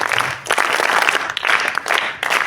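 An audience at a motivational talk claps in synchronized bursts, loud and close, with about four rhythmic waves of clapping, each pausing briefly before the next.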